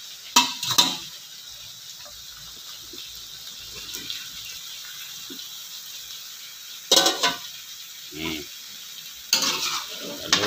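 A spoon stirs chayote in a cooking pot of chicken tinola, giving a few short scraping clatters over a soft sizzle, with quiet gaps between bursts.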